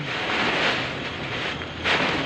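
Strong wind driving rain during a thunderstorm in front of a shopping mall, a dense steady roar of wind and water that gusts louder toward the end, with no voices.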